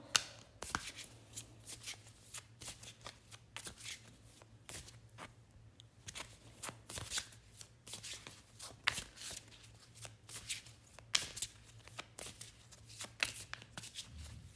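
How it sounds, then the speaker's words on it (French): A card is drawn from a deck during a card reading, giving soft, quick papery flicks and slides that repeat close and quiet over a faint steady hum. "On va retirer une autre carte pour voir par rapport à ton talent."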